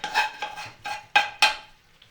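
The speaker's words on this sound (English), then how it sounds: "The veg we sweated earlier, we're going to just scoop it into there. To our big pot of boiled potatoes." Sweated vegetables scooped with a spoon into a big pot of boiled potatoes: a few soft scraping, clinking strokes against the pot, spaced unevenly and fairly close, with no talking.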